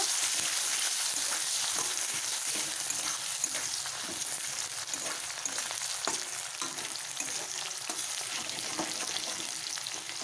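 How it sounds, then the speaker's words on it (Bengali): Onions fry in a pan with a dense, steady sizzle and crackle that holds evenly throughout, close up and alone without talk. "তো দিয়ে দিচ্ছি পেঁয়াজ, ভালো করে লাল করে ভেজে নেব।"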